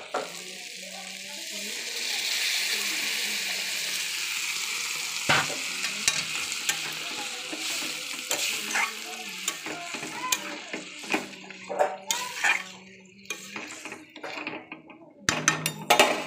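Water poured into a hot pan of frying long beans, potato and brinjal sets off a loud hiss that settles into steady sizzling, with clinks and scrapes of stirring breaking through near the end.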